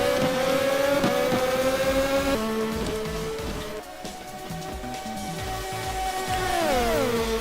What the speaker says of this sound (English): And foot meets gas pedal again.